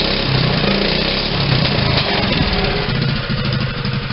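A mini bike's small engine runs steadily after a carburetor repair, with a loud, buzzy, continuous drone close by, no talking.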